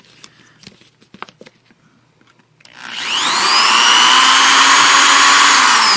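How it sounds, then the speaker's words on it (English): A power drill bores holes through the plastic of a homemade slug trap, starting after a few light handling knocks and then whining steadily and loudly up close for about three seconds. "You can drill through from the inside or the outside, depending on which way you find easier."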